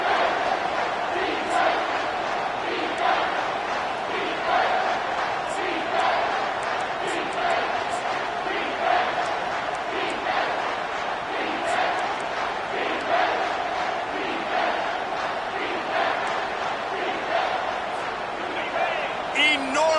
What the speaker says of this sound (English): Third down, and this crowd is bringing down the house.